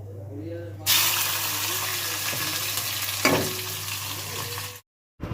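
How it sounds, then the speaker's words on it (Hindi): Dal frying in a pan in a home kitchen, a loud steady sizzle starting abruptly, with a sharp scrape of stirring midway and a brief cut to silence near the end. "ये दाल फ्राई हुई है"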